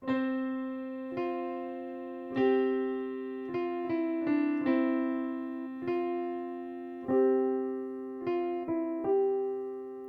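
Right-hand piano chords from a song's riff, without the melody, struck one after another in an unhurried, uneven rhythm, each ringing out and fading before the next, with no voices.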